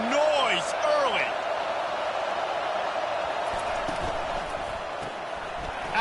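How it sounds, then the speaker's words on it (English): Steady college football stadium crowd roar fills the whole stretch, a dense continuous wash with a louder swell at the start and a tonal whistle-like sweep early on, holding fairly even throughout. "This crowd bringing the energy and noise early."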